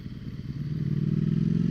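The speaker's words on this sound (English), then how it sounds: "we're super puttering here. Second gear going 20, but the bike's not being herky-jerky." A 2021 Ducati Streetfighter V4S motorcycle putters along smoothly in second gear at low speed, its engine a steady, close, loud low rumble with rapid even pulses and no talking.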